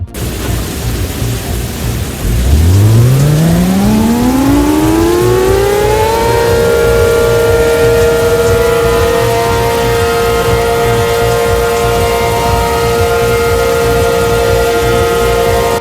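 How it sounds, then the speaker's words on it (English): A tornado alarm siren winds up from a low growl into a loud, sustained wailing tone that holds steady and fills the space, with no voices over it. "What with the siren going off at RDK 3000 TriStar?"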